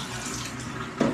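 Tap water runs steadily into a sink while eggs are washed by hand, a close, even hiss of flowing water with a brief splashy surge near the end.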